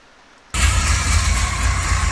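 A hot rod engine bursts into loud running after a quiet moment and keeps going steadily, its rough low rumble unbroken with no talk over it; a couple of cylinders are misfiring.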